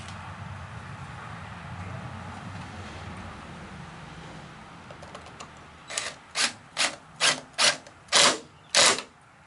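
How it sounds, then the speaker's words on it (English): A drill drives 1¼ inch screws into a wooden porch swing arm in six short, loud, evenly spaced bursts after a quieter stretch of low background rumble and faint handling. "You have to be careful not to drill all the way through the arm, obviously."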